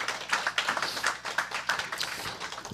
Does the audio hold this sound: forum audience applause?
yes